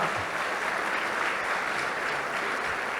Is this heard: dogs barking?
no